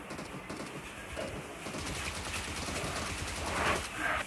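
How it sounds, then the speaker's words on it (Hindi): A Bizon submachine gun fires in a video game, with rapid, continuous bursts of crackling shots and a busy background of game sounds. "क्या धीरे गोलियां जाती है बाइजन की"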